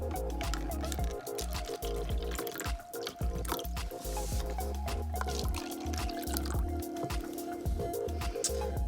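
Water poured into plastic cups arranged in a circle for a color-mixing activity, a busy run of close dripping, trickling and splashing that continues steadily for several seconds with no talk.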